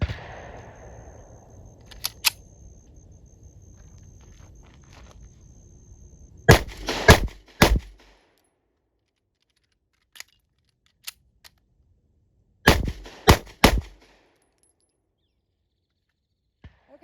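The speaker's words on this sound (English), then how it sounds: "I'm going to do 3 shots, emergency reload, excuse me, and 3 more shots" Canik Mete MC9 pistol firing in two groups of three sharp, loud shots at close range, separated by a pause for an emergency reload with faint clicks of the magazine change.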